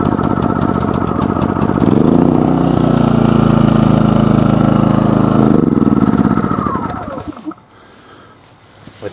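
A PROYAMA 4000-watt portable generator's engine catches after a pull start and runs loud and steady for several seconds, then cuts out and falls quiet with a few faint clicks.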